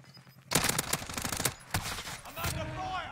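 Gunfire in a first-person shooter game: loud, close bursts of rapid automatic shots, several volleys in quick succession with short pauses, and a voice speaking briefly underneath.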